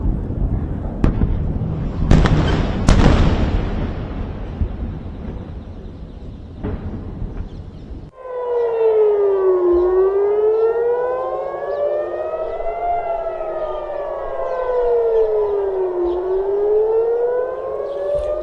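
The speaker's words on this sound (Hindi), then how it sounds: "सेंट्रल और दक्षिणी इजरायल में सायरन बजे हैं" Several loud booms and crackling missile blasts at first, then a wailing air raid siren rising and falling steadily, loud and alone, in Israel during the Iran-Israel war.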